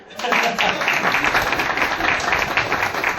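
Audience clapping at a talk about a product's unique selling points, a dense, steady patter of many hands that starts abruptly and holds loud and even for about three seconds.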